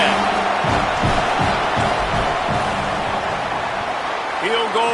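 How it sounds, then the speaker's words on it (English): Stadium crowd roaring steadily in a college football video game as a field goal attempt lines up, broad and loud, with a commentator talking over the noise throughout. "This crowd trying to do its part to get inside the kicker's head"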